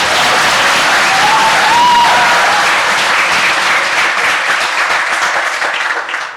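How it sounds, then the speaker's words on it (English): A live podcast audience applauds and cheers, dense loud clapping that holds steady for several seconds before tapering slightly at the end, with a brief whoop rising above the crowd. "Please give a huge cheers."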